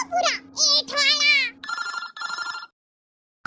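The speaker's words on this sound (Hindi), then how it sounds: "ऑफिस से फोन कर रहा है" A phone ringtone sounds in two short tonal bursts right after a brief exchange of voices, including a child's, then stops, leaving silence.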